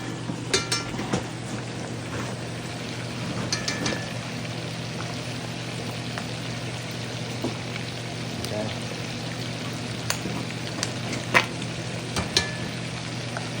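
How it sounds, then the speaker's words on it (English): Pork belly frying and rendering its fat in a pan for home-cooked adobo, a steady soft sizzle throughout with occasional small pops and clinks of utensils. "The pork belly is out there doing its thing, rendering out."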